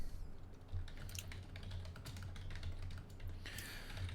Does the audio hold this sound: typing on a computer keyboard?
yes